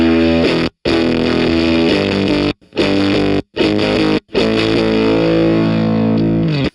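A JHS Colour Box pedal with gain and pre-volume maxed plays heavily saturated, dirty distorted chords. The loud, sustained crunch is broken by several abrupt silences where the playing stops and restarts.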